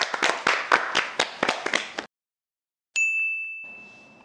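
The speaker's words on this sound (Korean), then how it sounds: "저희 박수로 끝내도록 할게요." A small group claps to close an interview, about two seconds of brisk, close hand claps, then a brief silence followed by a bright ringing ding that fades out.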